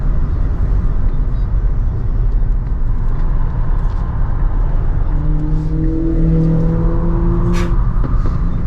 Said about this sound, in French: La remise de gaz elle est violente